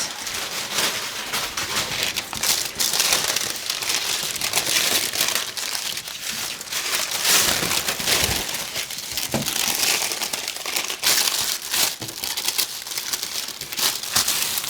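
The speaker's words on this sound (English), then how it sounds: "And very, very scientifically tape it together." Paper pattern pieces being handled and taped together, with steady crinkling and rustling of paper and tape pulls close up, continuous and busy, no talk.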